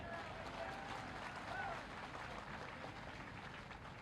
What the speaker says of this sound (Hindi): अरे तालियों के गड़गड़ाहट से